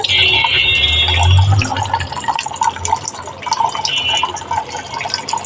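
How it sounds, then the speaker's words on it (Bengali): Fish rinsed with lemon under a running kitchen tap give a steady close splash and trickle of water, easing off midway, with a faint voice underneath. "এই মাছগুলোকে এখন লেবু দিয়ে ভালোভাবে পরিষ্কার করে নেবে"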